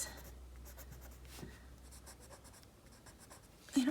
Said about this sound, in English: let's take our pencil, since I made my bees so small, and make little